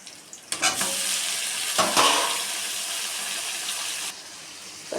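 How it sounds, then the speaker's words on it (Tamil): Onions and tomatoes sautéing in a pan, a close hissing sizzle that flares as the tomatoes go in, with a couple of stirring scrapes before it cuts off. "வெங்காயம் வதங்கிடுச்சு, தக்காளி போட்டு வதக்கிடுவோம்."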